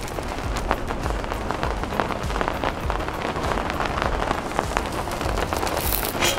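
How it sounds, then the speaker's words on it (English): Heavy rain pours down steadily outdoors beside a Blackstone griddle, a dense continuous patter with scattered louder drops, close and fairly loud throughout, with no talking. "And of course, the rain is coming down harder now,"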